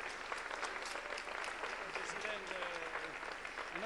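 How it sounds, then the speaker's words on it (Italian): At an international guitar festival, an audience gives steady, full applause for a local Pro Loco group, a sustained wash of clapping under faint speech and some tonal sounds. "Ancora un applauso alla Proloco di Valva"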